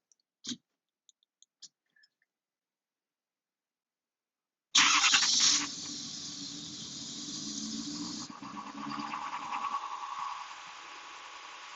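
A 2011-2016 Ford Super Duty truck starting by remote: a few faint clicks, then a sudden loud crank and catch, settling into a steady idle that rises slightly, with no talking.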